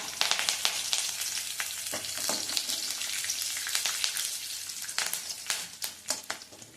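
Green chillies and curry leaves sizzle loudly in hot oil for upma, a dense crackling fry with sharp pops scattered throughout and growing more spaced toward the end.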